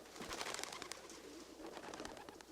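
Racing pigeons cooing softly and repeatedly, with wing flutters and shuffling, faint and fairly close.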